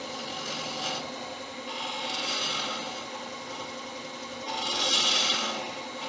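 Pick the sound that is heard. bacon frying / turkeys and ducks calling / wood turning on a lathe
wood turning on a lathe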